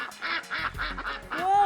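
A duck quacks repeatedly in a rhythmic series of short, nasal calls, fairly close and clear, with a low rumbling background underneath and a rising call at the end.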